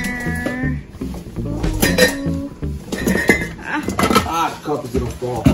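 Pots, a metal strainer and utensils clatter and clink repeatedly while fettuccine is drained in a home kitchen, close and busy, with a person talking over the noise.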